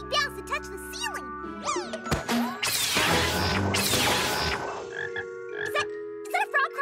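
A cartoon frog, looking like a frog crossed with an orange, croaks in the animated series My Little Pony: Friendship is Magic. It gives several close croaks among bouncy cartoon sound effects, a crash and whooshes, with voices nearby.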